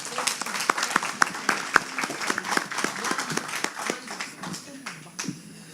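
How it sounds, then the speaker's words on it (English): A workshop audience at a community advocacy event claps for its speakers, a scattered patter of individual hand claps that continues throughout and tapers off near the end, while someone talks over it. "let's give another round of applause for all of our speakers, please"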